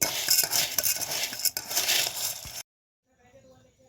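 A utensil scrapes and clinks against a pan while chickpeas (futane) roast, busy rhythmic stirring and rattling up close that stops abruptly, followed by faint quiet.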